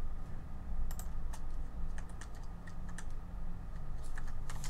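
Computer keyboard keys clatter in quick irregular bursts of sharp clicks during play of the video game DLC Quest, with close, fairly loud taps over a steady low hum and no voices.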